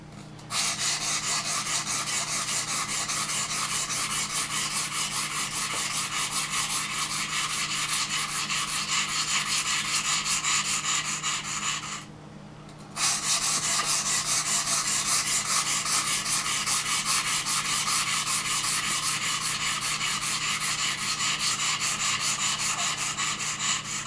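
A knife blade is worked back and forth on a sharpening stone in a steady, continuous scraping rub with a brief pause midway, close and fairly loud with no talk.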